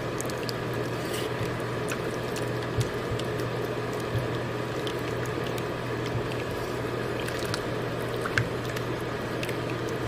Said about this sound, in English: So I'm gently gonna add this cream and broth mixture to this.